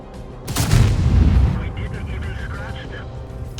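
A tank cannon shot in the video game World of Tanks, one heavy booming blast that rolls off for about a second, followed by quieter rumble and clanks while a voice talks.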